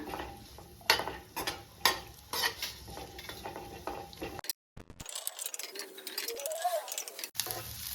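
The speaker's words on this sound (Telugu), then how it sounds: "ఉల్లిగడ్డలను వేస్తున్నా. కొద్దిగా ఫ్రై చేసుకోవాలి ఉల్లిగడ్డలను మంచిగా" Five chopped onions frying in oil, loud close sizzling punctuated by rhythmic spatula scrapes against the pan, then a brief drop to silence and a smoother hissing sizzle with a rising whine.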